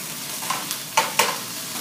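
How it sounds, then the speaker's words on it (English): Seasoned beef sears in a hot pan, a soft continuous sizzle with a few short sharp spatters and stir scrapes over about two seconds, close by. "So we're just going to sear this up real quick"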